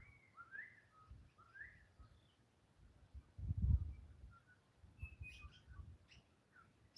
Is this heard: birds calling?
yes